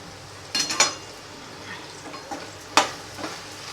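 Spices for sabudana khichdi being stirred in a pan with tomatoes and chilli powder: a few scraping, clinking strokes of a spoon against the pan over a faint sizzle, close and fairly quiet.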